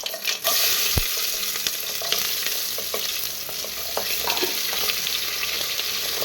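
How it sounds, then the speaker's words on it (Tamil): Chopped onions sizzle steadily in hot oil in a pan while a spatula stirs and scrapes them, loud and close, with occasional clinks against the pan. "இப்போ வெங்காயத்தை பொறுமையாக தள்ளுவோம்"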